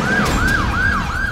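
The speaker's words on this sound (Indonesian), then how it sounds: "Sirine unit mobil rescue pemadam Jakarta pun langsung membelah keheningan malam" A loud wailing siren from a Jakarta fire-rescue vehicle at night sweeps up and down in a steady repeating cycle, close by, with road noise underneath.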